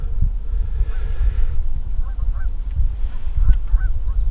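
Several geese honk in short, scattered calls over a low rumbling wind, some calls closer and others farther off.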